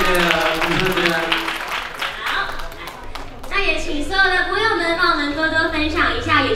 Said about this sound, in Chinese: 再一次掌声